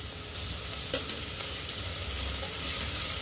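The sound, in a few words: onions, curry leaves and green chili sautéing in pan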